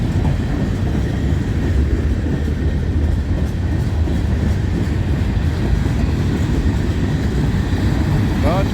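A long freight train of covered hopper grain cars rolls past at Abbeville, a loud, steady rumble with a continuous rattle of wheels and cars that holds throughout.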